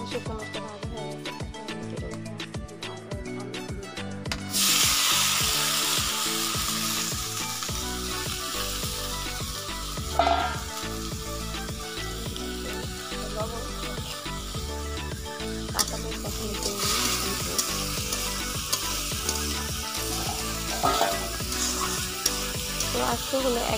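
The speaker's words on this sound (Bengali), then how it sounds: "শুকনো মরিচটা ভাজা হয়ে গেছে" Dried red chillies fry in hot oil in a wok, a steady, dense sizzle that swells loudly after a quieter start and keeps crackling close by for the rest of the stretch.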